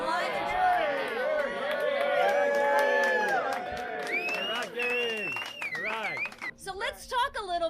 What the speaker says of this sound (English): let's all cheer to 45 years of life